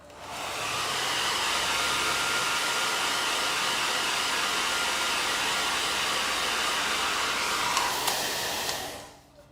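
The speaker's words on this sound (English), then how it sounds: "now's the time where I'm gonna have to hit the blow dryer." A blow dryer runs steadily with a loud, constant whooshing roar for several seconds, then cuts off near the end.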